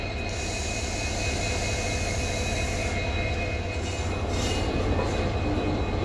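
Subramania Mangalore passenger train pulling into a platform, a steady loud rumble of railcars rolling past up close with faint squealing overtones, continuous through the whole stretch with no talk.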